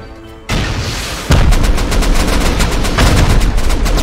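Gunfire in the survival game Rust during a large clan raid, with a pump shotgun among the weapons: a loud sudden burst of rapid overlapping shots that starts abruptly and keeps up as a dense, continuous volley.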